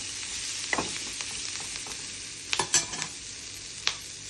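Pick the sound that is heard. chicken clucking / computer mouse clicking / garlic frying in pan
garlic frying in pan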